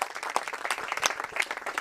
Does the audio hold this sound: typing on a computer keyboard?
no